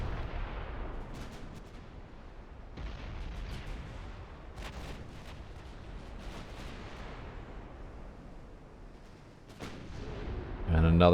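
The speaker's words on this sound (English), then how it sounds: "decent range on these 7-inch guns" Heavy 7-inch naval guns fire in Ultimate Admiral: Dreadnoughts, a run of muffled booms spread through a sustained rumble of battle with a few sharper cracks.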